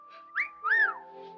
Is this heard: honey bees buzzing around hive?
no